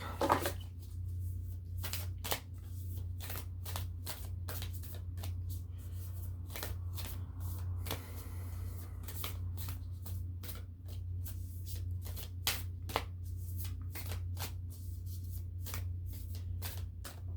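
A Cosmic Dancer Oracle card deck is shuffled by hand: quick, repeated crisp riffles and flutters in close succession, nearby and clear, with no speech.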